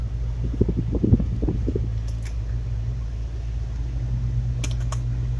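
A car's heater fan blows a steady, even rush of air as the car warms up on a freezing Buffalo winter day. A few soft knocks and rustles sound near the start, then the fan runs on alone.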